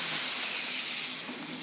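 A voice imitates a snake's hiss at a school Halloween assembly, giving one sustained, bright, breathy hiss that stays strong, then softens and trails off near the end.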